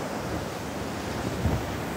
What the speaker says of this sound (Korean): 지금 파도가 이렇게 치고 있습니다